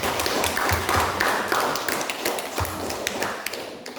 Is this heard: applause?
yes